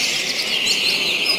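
A coleiro (double-collared seedeater) sings continuously at a songbird contest in Nova Friburgo, Rio de Janeiro, a loud, close, bright chattering warble with no talk.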